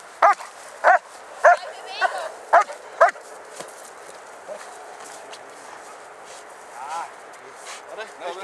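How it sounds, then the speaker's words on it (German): A dog barks sharply about six times in a quick series, fairly close, then quieter whimpers and faint sounds follow over a hushed background. "Der Hund ist ganz gut."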